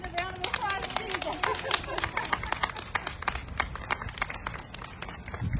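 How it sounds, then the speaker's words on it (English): Applause and clapping from students at a school news broadcast, a steady patter of many hands with overlapping voices and cheering throughout. "I need a round of applause"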